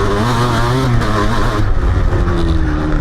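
A 1994 Kawasaki KDX 200 two-stroke dirt bike revs loudly up close on a motocross track, its buzzing engine rising and falling as it accelerates.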